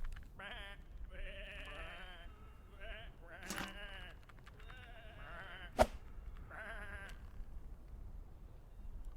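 Several sheep in the video game Whateverland bleat in quick succession, loud, nasal and wavering, one overlapping another, with a sharp click partway through and a steady hum underneath.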